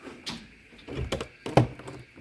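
An old door at a country hotel is rattled and pushed shut, giving a few scattered knocks and one sharp thunk near the end, close by with no talk.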